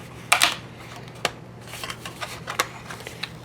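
A cutting die being peeled off sticky paper, heard as a few soft crackling, papery rustles and short ticks, close to the microphone, with no talk.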